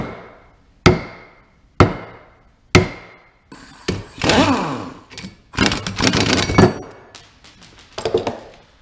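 Sharp metallic taps on the differential bolts of a Dodge Dakota during a limited-slip differential install: three evenly spaced knocks, each ringing briefly, then a burst of scraping, clattering handling noise close to the mic, with no talking.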